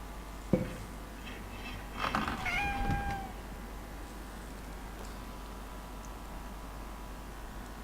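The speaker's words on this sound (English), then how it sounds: "the cat meowing all the time" A cat gives a short meow or two, a rising and falling cry near the start against a quiet room hiss, then silence follows.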